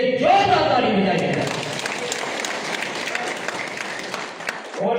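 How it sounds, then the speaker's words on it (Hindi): A crowd at a Rashtriya Kisan Union farmers' conference in Madhin applauds loudly and steadily for the farmers, with voices mixed into the clapping throughout before it fades at the end. "सभी किसान भाइयों के लिए जोरदार ताली बजाइए।"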